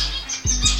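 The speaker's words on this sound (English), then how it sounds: "here I have the diamond firetail finches" Diamond firetail finches in a bird room give short, high chirps over a steady low hum, with a couple of soft wing flutters close by.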